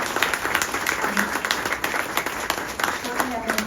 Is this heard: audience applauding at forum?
yes